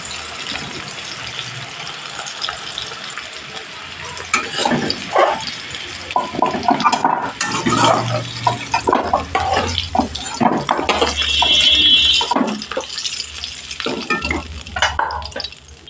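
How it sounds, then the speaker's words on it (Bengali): Small new potatoes fry in hot oil in a pan, making a steady close sizzle broken by louder bursts of stirring and clattering, with no talking. "আলুটা প্রায় ভাজা কমপ্লিট হয়ে গেছে"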